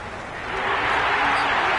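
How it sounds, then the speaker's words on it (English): A stadium crowd at a cricket match in Cricket 26 swells into a loud, raucous roar, a dense steady wash of cheering that builds over under two seconds. "The crowd are really getting quite raucous."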